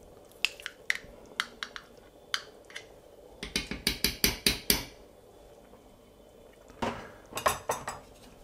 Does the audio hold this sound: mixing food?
yes